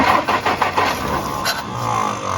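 A Jeep CJ3B engine being cranked over by its starter while being checked for spark, a loud, steady, churning whir with rapid rhythmic pulses, heard close up.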